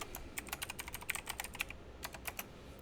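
Quiet, quick keystrokes on a computer keyboard as a password is entered, a run of light clicks in a brisk irregular rhythm with a short pause partway through.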